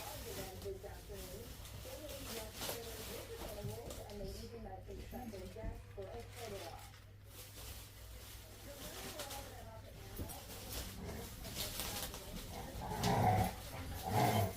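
Several dogs play at home with growls, yips and scuffling throughout, the noise rising to a louder bark-like burst near the end, while a person talks over it.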